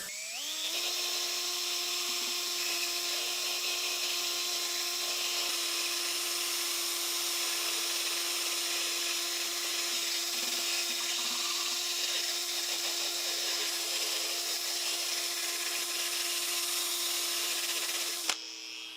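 A power drill spinning a sanding disc whines at a steady high pitch for nearly twenty seconds, then winds down abruptly with a small click.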